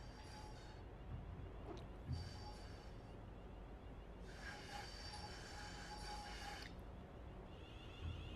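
A train in the Train Sim World 6 game pulls into Wolverhampton station, with a steady low rumble of wheels on rails and bursts of high metallic wheel squeal that come and go, fairly faint throughout.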